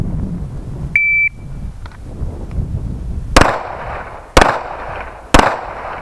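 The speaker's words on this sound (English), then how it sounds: "you're gonna draw and fire 3 rounds" Three sharp pistol shots ring out about a second apart during a timed strong-hand-only qualification drill on a tactical shooting range, each crack loud and close, preceded by a short electronic start beep.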